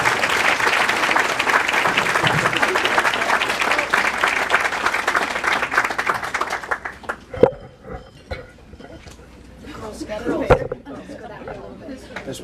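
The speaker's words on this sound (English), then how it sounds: "We'll give them one more round of applause." An audience at a chamber of commerce awards ceremony claps steadily and loudly for about seven seconds, then the applause thins to a few scattered claps amid murmured crowd chatter.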